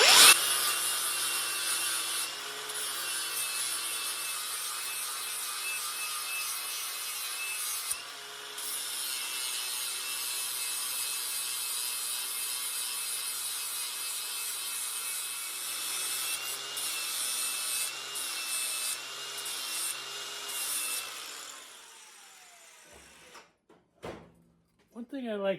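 A flap wheel on a grinder strips galvanizing from the frame horn of a 1972 VW Super Beetle, a loud, steady abrasive whine that runs for about twenty seconds, then stops, followed by a few light clanks.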